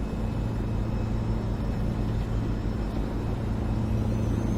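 A steady, low engine rumble of a Mack R600 truck in American Truck Simulator drones on evenly throughout, cruising at about 65 mph, with no talking.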